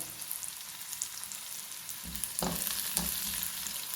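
Onions and garlic frying with turmeric and curry leaves, a soft continuous sizzle that grows louder as a spoon stirs and scrapes the pan in a few close strokes.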